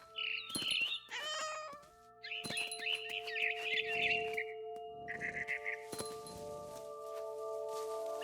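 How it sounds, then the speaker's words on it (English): A barn swallow chirps in the video game What Remains of Edith Finch: bright, close trilling bursts in three spells, with a cat's meow in between and steady sustained music tones underneath. "Then I heard chirping outside my window. It was a barn swallow going back to her nest."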